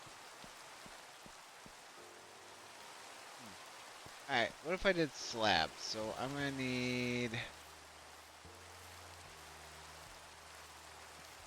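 Steady rain in Minecraft falls as a soft hiss throughout, with someone talking over it in the middle and a few brief higher game-like tones.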